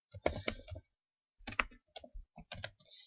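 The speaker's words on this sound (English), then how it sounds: "So you would tab in to start typing a paragraph." Keys clatter on a computer keyboard as a paragraph is typed, coming in close, crisp bursts of rapid clicks separated by a brief pause.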